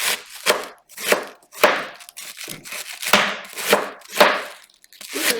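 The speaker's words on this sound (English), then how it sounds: "I'm going to chop my cabbage into thin slices," A knife chops half a cabbage into thin slices on a board, about ten crisp, crunchy strokes in an uneven rhythm, close and clear with brief quiet gaps between cuts.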